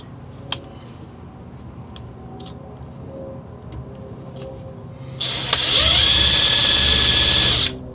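Cordless drill on high speed with a fully charged 4 amp-hour battery, tapping a hole with cutting fluid: quiet ticks and handling at first, then a loud, steady high-pitched whine that runs for about two seconds before stopping.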